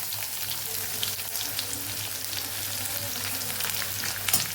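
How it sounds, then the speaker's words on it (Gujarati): Chopped onions sautéing in oil with cumin, curry leaves and red chillies for a Kathiyawadi dhaba-style peanut-tomato curry, a constant close crackling sizzle with a brief clink of the spatula at the end. "ડુંગળી સરસ સતળાઈ જાય"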